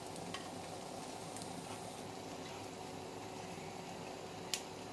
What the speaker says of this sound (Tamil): குழிப்பணியாரம் 2 சைடு நல்லா பொரிஞ்சிருச்சு